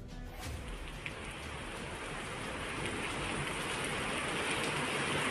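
Rain falling during a storm, a dense, steady hiss of drops on surfaces that slowly builds in loudness, with no voices.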